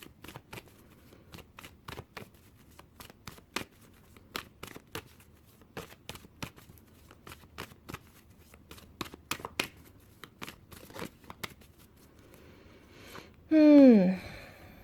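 Romance Angel oracle cards being shuffled by hand, a series of crisp riffling flicks and taps spread over several seconds, ending with a short higher-pitched sound.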